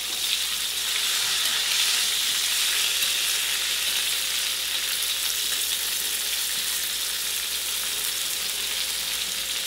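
Fried salted milkfish (daing na bangus) and eggplant sizzle steadily in a pan, a constant close, even hiss of hot oil that runs unbroken through the whole stretch with no voices.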